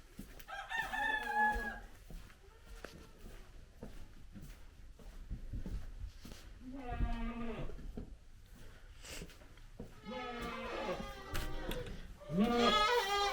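Goats on a farm bleat in several loud, drawn-out calls, some close and some farther off, with quieter stretches of barn noise between them.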